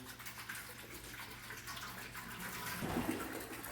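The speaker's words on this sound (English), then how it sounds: "we're going to add 5 gallons of our water right in the pot to begin with" Water pours steadily into a large metal brew pot for home beer brewing, a constant rushing splash that swells slightly toward the end, with no one speaking.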